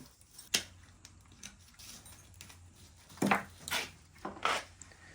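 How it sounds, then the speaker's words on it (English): Scissors snip the wiring off a bonsai's branches. Quiet, close, irregular snips and small metallic clicks come in a loose series, with no speech. "So we cut all that off now."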